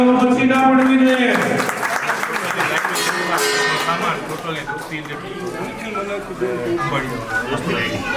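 Audience clapping at a Surapura Dada havan ceremony held by a family gathering, sustained loud applause mixed with music and voices over a public address system.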